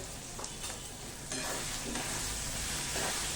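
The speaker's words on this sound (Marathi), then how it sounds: "चला कांदा मस्त आपला सोनेरी रंगावर परतत आलाय आता याच्यामध्ये घालूया हळद" Onion sautéing with turmeric in a pan over medium heat for a spicy Maharashtrian zunka, giving a steady close sizzle and frying crackle that grows slightly louder midway, with soft stirring scrapes and no talk.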